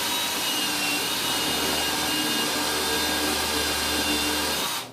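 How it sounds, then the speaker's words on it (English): A drill fitted with a countersink bit pre-drills a hole for a wood plug while a bay window is installed, running as a steady, loud whir for nearly five seconds before cutting off abruptly. "I'm going to pre-drill the hole"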